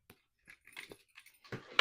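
Keys jangling on the key loop of a large Portland Leather Goods Devan leather bag, a few brief metallic clinks and rattles close up, growing busier and louder toward the end.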